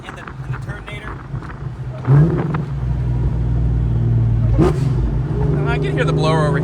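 A supercharged 2.2 Ford Cobra engine runs with steady low rumble and a faint blower whine; around two seconds in it revs up into a sustained louder drone that stays high through the end.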